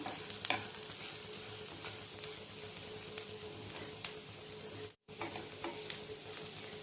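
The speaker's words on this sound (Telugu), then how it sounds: "కాకరకాయ ముక్కలు కూడా వేసేస్తున్నాను" Bitter gourd pieces sizzling in a pan while being stirred, a constant soft frying hiss broken by scraping clicks of the spoon, close, with a brief dropout near the end.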